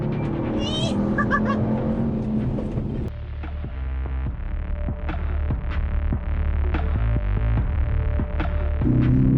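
A Mercedes-AMG GT 63 S four-door accelerates hard, its engine note climbing and then dropping with each quick gear change, loud and close with a throbbing, rumbling tone.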